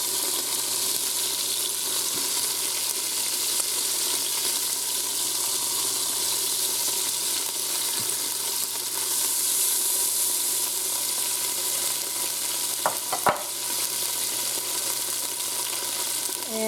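Steak pieces browning in an Instant Pot make a continuous, moderate sizzle with faint clicks and one or two brief clatters near the end.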